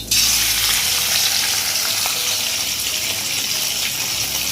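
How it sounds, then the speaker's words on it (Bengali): Fish frying in a hot pan in a home kitchen, a loud steady sizzle and crackle of oil that holds close and constant throughout, with no voices. "আবার এগে থেকে এখন মছলিটা ভাজা বসাই।"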